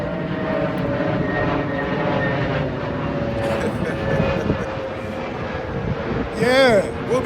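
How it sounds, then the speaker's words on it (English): A propeller airplane drones steadily overhead while a Maserati Ghibli sits nearby, the engine hum loud and continuous with shifting tones, a voice talking over it and a brief whooshing sweep near the end. "Let this plane go by real quick."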